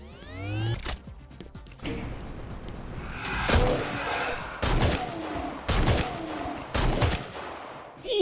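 Gunfire from the Halo Doom Evolved mod, a first-person shooter game, with repeated loud bursts of heavy shots in clusters and a whirring mechanical sound at the start, close and punchy.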